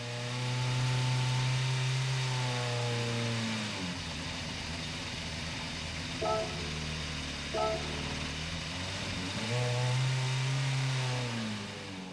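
A Honda RC213V motorcycle engine swapped into a car in Gran Turismo 7 revs loudly and steadily, its pitch climbing high, dipping back to a low idle in the middle with a couple of brief blips, then rising again.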